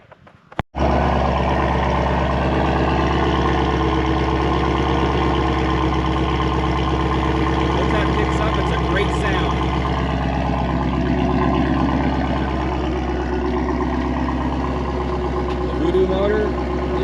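Ford Mustang GT350R Voodoo with a 5.2-litre flat-plane-crank V8 idling, a steady loud low rumble throughout after a brief start, with no talk over it.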